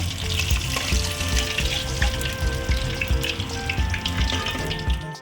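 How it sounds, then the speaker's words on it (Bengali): Pieces of barramundi (bhetki) fry in hot oil with a loud, continuous crackling sizzle and occasional stirring clinks, close up and uninterrupted. "সেকেন্ড সেটটাও ভাজা হয়ে গেছে আস্তে আস্তে আমি তুলে নিচ্ছি"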